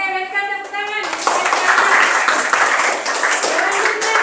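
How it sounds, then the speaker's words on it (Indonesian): A classroom of students applauding during a lesson, with a short spoken line followed by sustained clapping from many hands that continues steadily to the end. "Oke, berikan tepuk tangan."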